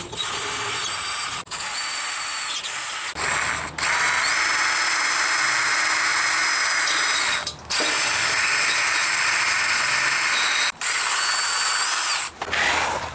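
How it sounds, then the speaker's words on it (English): A power drill whines loudly and steadily in long runs drilling underneath a Lexus GX460 for a skid plate, stopping briefly a few times before starting again, close by with no voices. "start drilling"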